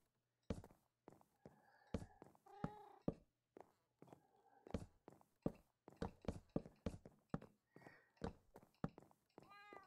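A cat in the Minecraft video game meows repeatedly in quick game-sound bursts throughout, mixed with soft tapping steps and clicks, fairly close and clear with no talking.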